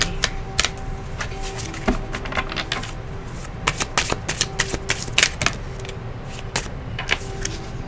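Rapid dry riffling and sharp slaps of tarot cards being shuffled and drawn, close and crisp, with irregular clusters of clicks and flicks throughout and no talking.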